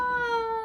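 A single short cat meow, clear and close, with a steady tone that drops slightly at the end.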